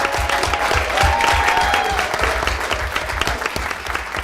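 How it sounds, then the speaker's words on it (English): A room full of people applauds third-grade students from Trailside Point and their teacher at a school district board meeting, with dense, steady clapping throughout and no talk over it. "let's give another round of applause to our students from Trailside Point, third grade."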